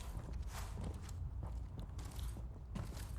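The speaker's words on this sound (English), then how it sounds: "I can hear footsteps in here." Footsteps sound inside a building in the tactical shooter Ready or Not, a run of soft, close, irregular scuffing steps against a muffled, busy background with no voices.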